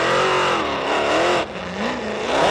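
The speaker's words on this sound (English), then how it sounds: "Wow, listen to that horsepower." An off-road race car at King of the Hammers roars continuously as it launches off the line, its engine note rising and dipping through loud, sustained revving with a brief dip midway.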